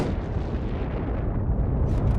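A bomb detonated during a test blast at New Mexico Tech rumbles loud and continuous, a dense broadband roar with no voices over it.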